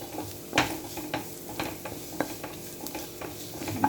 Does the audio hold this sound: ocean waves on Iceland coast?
no